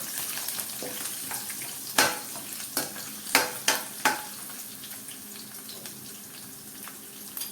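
Twenty-five to thirty curry leaves frying in oil in a pan until crisp, a soft steady sizzle broken by several sharp crackling spits and pops clustered in the middle, fairly close and quiet.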